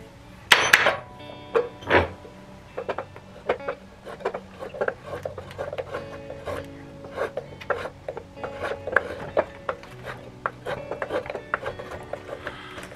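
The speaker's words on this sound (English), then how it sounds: "And we'll whittle away at it for a little while." A knife whittles a wooden kuksa cup by hand, giving repeated short scraping and rasping strokes in an irregular rhythm, close and moderately loud, with a few knocks and no talk.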